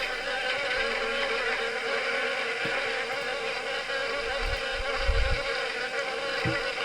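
Wasp buzzing in the video game Harvester, a steady insect drone held at an even loudness throughout, with a few low thumps near the end and no talk.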